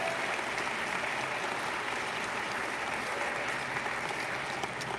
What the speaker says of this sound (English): Let's give one more round of applause to our senior scholar speakers.